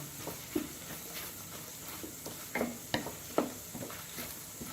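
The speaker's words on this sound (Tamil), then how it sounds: "இப்போ மூணு பச்சை மிளகா அதையும் சேர்த்து வதக்கணும்" Three green chilies sauté in a pan for paneer butter masala. A faint, soft sizzle runs underneath a few scraping stirs that stand out now and then.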